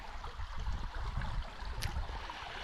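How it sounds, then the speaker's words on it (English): A brook flows and trickles steadily in the woods in snowy weather, with low rushing burbles and gurgles throughout at moderate distance, heard without talk. "So we gotta get across the brook here"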